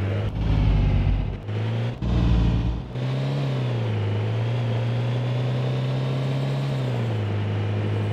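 A car engine in the DayZ video game drives steadily, its low, loud drone holding a sustained pitch with a brief rev surge near the start, running alone without talk.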